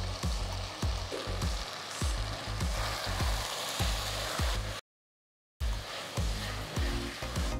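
Fresh green peas, mint and coriander leaves being stirred into a paneer mixture in a pot, with steady frying sizzle and repeated low scraping strokes, a brief silent gap midway, no talking.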